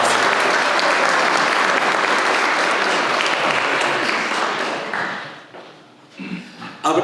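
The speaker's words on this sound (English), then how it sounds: "Let's give our sponsors a round of applause for making tonight possible." Audience applause for sponsors at an evening jazz-themed chamber gala, with loud sustained clapping from a large crowd that fades out after about five seconds, followed by a few scattered claps and thumps.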